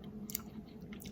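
Someone chews crunchy Sour Patch Kids candy popcorn with a sour coating, making faint, close crunching and squishing bites with no talking.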